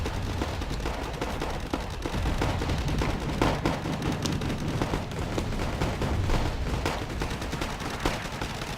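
Rapid 20mm autocannon fire from vehicle-mounted guns in the Wargame Red Dragon strategy game, a dense, loud, continuous barrage of overlapping shots and impacts lasting throughout.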